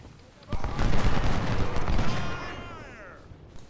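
Rifle volleys from snipers and skirmishers in Ultimate General: Civil War at the Battle of Fredericksburg, a loud burst of overlapping shots rolling into a rumbling fusillade that fades, with a voice speaking faintly.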